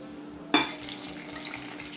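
Milk, one and a half cups, poured from a cup into a bowl of batter for a home-cooked recipe, starting with a sudden close splash and settling into a steady trickling stream that runs alone for under two seconds.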